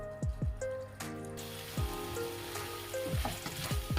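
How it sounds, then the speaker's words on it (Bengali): A yogurt-based curry mixture frying in a pan as its liquid cooks down, giving a continuous wet sizzle and bubbling, with intermittent low whooshing sweeps and a few background tones. "আমি এটাকে ফ্রাই করে করে লিকুইডটাকে শুকিয়ে আবার এটাকে একদম কষা বানিয়ে দেবো"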